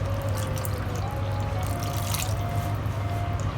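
Water is poured into a cooking pan of spiced aloo baingan wadi masala, a steady close splashing pour with faint drips that runs throughout on its own, with no talking.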